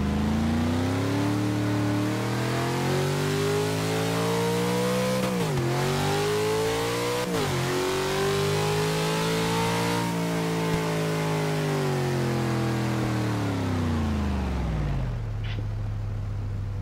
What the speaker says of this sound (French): On va commencer par le drag, puisque les pneus sont encore frais.